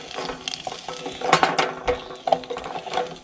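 Wax for bushcraft firelighters sizzles and melts in a pot inside a Saxon house, with crackling, irregular pops and clinks of stirring against the metal, close and fairly loud.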